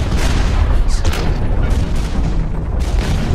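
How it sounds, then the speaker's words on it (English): Grenades fired in the mech shooter game Hawken: a dense, loud barrage of booming blasts and rumbling gunfire that fills the whole stretch without a break. "Just gonna fire some grenades in there"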